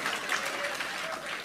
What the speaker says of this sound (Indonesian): Kenapa cuma satu orang yang tepuk tangan ini?